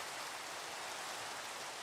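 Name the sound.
rain falling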